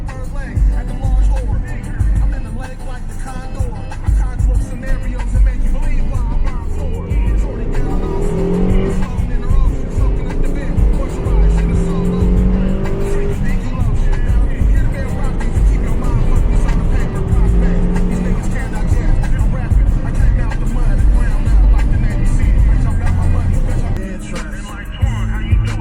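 A 6-speed manual Mazda 5 drives onto a freeway, its engine and road noise droning loud and steady throughout, with tire roar rising and falling as it accelerates; no one speaks.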